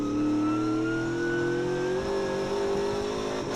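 A TA2 muscle race car's V8 engine revs steadily and loudly on the track at Sydney Motorsport Park, its pitch climbing slowly through a sustained high-rpm run with no pauses.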